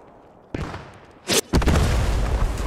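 In the Post Scriptum war game, a bazooka blast lands close: a sharp bang, then a loud burst of explosions and rumbling booms that keep roaring over the battlefield.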